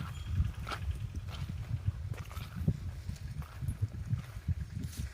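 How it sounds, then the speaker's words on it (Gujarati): A horse's hooves clip-clop on the ground of a farm field at a running gait, a rapid uneven patter of low thuds, fairly faint and with no voices. "ઘોડા દોડાવાળાની જમાવટ થઈ ગઈ ઘોડો પકડવાનો ઓલો આજે આવ્યો ને દિલબાગ પકડવા નથી દેતા"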